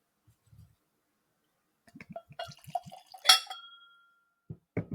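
Four Roses 2024 Limited Edition bourbon is poured into a glass: a short gurgling trickle with a bright clink, surrounded by a few scattered drips and light taps in a quiet room.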